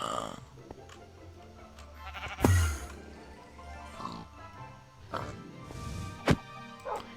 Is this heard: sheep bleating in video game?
yes